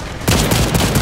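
Gunfire in a dinosaur-hunting video game: a dense burst of rapid shots erupts suddenly and rattles on loudly to the end, with no voices.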